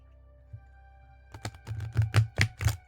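A brand new deck of playing cards being shuffled, a burst of crisp riffling snaps and flutters starting after a quiet second and building over the last half, close and fairly loud with no talking.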